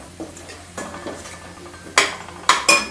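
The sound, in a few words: sautéing clams with Malvani masala in a pan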